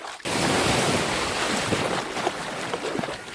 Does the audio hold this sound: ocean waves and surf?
yes